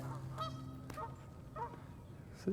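Geese by a lake give several honks in quick bursts, moderately near, over a steady outdoor background hiss.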